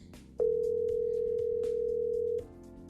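A Fanvil V Series office desk phone sounds a steady, unbroken electronic tone for about two seconds while dialing a party for a conference call, with faint background music underneath.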